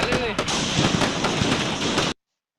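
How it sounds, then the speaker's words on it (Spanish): Fireworks in a recording played back during an online artist talk, a dense, noisy crackle with scattered pops and a whistling streak, loud and steady for two seconds before cutting off abruptly. "Sí se vieron los fuegos artificiales, ¿verdad?"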